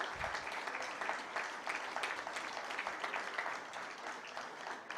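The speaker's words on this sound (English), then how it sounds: "Let's give a huge round of applause" A hall full of people at a publishers' congress in Delhi keeps up a continuous round of applause for an award winner, heard softly from a distance. Individual claps flicker within the steady wash.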